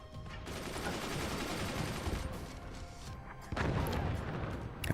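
Heavy bombardment in the Forts RTS video game, mortar and artillery fire thudding in a loud, steady barrage, with a fresh burst of impacts near the end.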